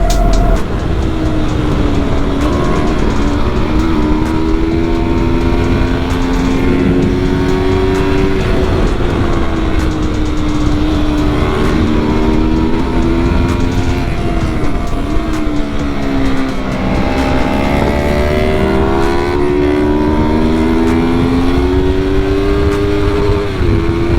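A Yamaha R3 motorcycle engine revs hard and continuously in a loud, close, high-pitched whine that climbs and falls through gear changes for over twenty seconds, with no talk.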